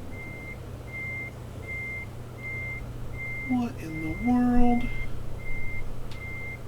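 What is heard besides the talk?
truck reversing beeps in Euro Truck Simulator 2 video game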